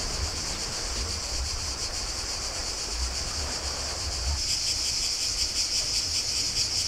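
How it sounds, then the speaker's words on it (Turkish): Grasshoppers chirp in a dense green forest beside a small seaside beach on Hvar island, Croatia: a steady, continuous high buzzing that swells a little louder in the second half, with no talking. "bir tarafı da böyle çekirge sesleriyle yemyeşil bir orman"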